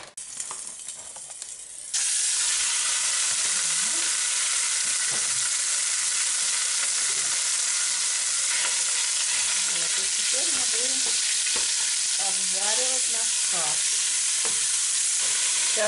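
Loud, steady sizzling of minced meat frying in pork fat in a hot pot begins after a brief quiet start, with occasional faint stirring and scraping sounds underneath.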